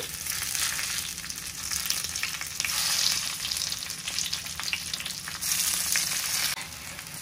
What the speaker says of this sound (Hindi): अभी हम ये तेल गरम हो चुका है इसमें डालेंगे मिर्ची